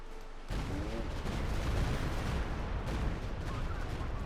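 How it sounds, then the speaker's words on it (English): Artillery barrage in Company of Heroes 2, a dense, continuous roll of booming detonations and crackling gunfire that starts abruptly and stays loud throughout. "We got another streak of his barrage."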